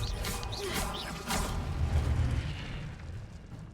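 An Incendio fire spell in Hogwarts Legacy erupts with a deep boom and a whooshing burst, followed by a rumbling roar that slowly fades.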